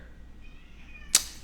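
A pet cat lets out a single faint, drawn-out meow, heard alone near the mic in a quiet room and ending with a brief sharp noise.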